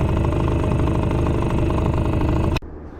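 A small Sea-pro T2.6S outboard motor runs on a boat with a steady, droning hum, then cuts off abruptly near the end, leaving quiet.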